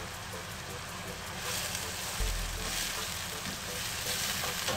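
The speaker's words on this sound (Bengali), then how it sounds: "দুই থেকে 3 মিনিটের মতো পেঁয়াজটাকে ভেজে নিতে হবে।" Onions fry in a pan of hot oil with about two tablespoons added, giving a steady, dense sizzle that runs close and even throughout, swelling slightly near the middle.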